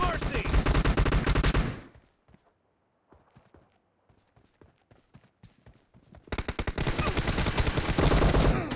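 Loud bursts of rapid automatic gunfire in a team deathmatch video game open the scene, fall away to sparse quieter shots and thumps, then return as dense sustained firing at the end.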